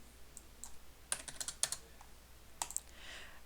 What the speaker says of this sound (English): So let's go ahead and type those in.